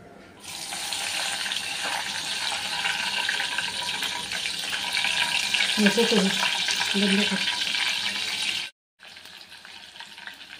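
Corn kernels fry in well-heated oil beneath a mesh splatter lid, giving a steady, fairly loud hiss and crackle that runs throughout, then cuts out abruptly near the end before resuming more quietly.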